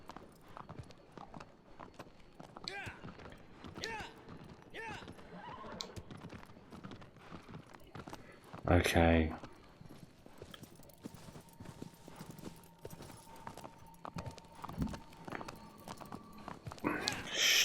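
Steady clip-clop of horse hooves in the video game Shadow of the Colossus, with a loud neigh partway through and another whinny near the end, under occasional quiet talk.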